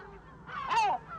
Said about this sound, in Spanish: su colonia de gaviotas argénteas